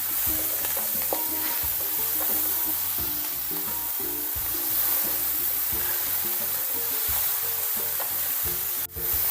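Chopped colocasia leaves are stirred in a sizzling pan for a Kerala pathila thoran, with a steady frying hiss and repeated scraping of the spoon against the pan, close and continuous.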